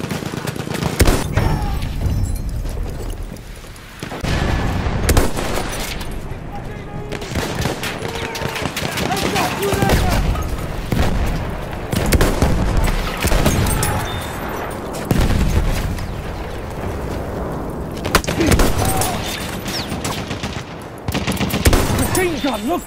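Sustained machine gun fire rattles through a Battlefield 1 match in dense, loud bursts with brief gaps, mixed with battlefield booms and a voice speaking now and then.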